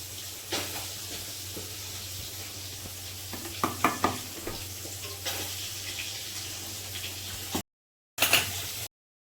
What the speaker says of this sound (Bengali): এইভাবে করে একটু ভেজে নেব